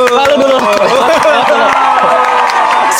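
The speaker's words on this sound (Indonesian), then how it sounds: "Tepuk tangan dong." A podcast audience claps and cheers, a dense burst of applause and whoops under lively voices, loud and close for a few seconds.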